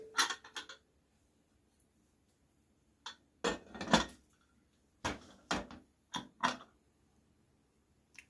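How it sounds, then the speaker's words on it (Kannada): Pressure cooker lid being closed while making biryani in a home kitchen: several short metallic clanks and scrapes in separate clusters with quiet gaps between, close by and with no talking. "ಸೊ ಇವಾಗ ಕುಕ್ಕರ್ ಬಾಯಿ ಮುಚ್ಚಿ"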